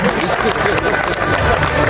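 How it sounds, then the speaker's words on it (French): An audience at an awards ceremony applauds a car promotion, dense and loud clapping mixed with crowd noise and chatter, with a voice heard over it. "Ça s'applaudit."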